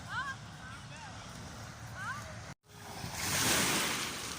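Sea waves wash in at the water's edge at sunset, a broad hiss of surf that swells louder in the second half after a brief dropout, with faint bird chirps and light wind early on.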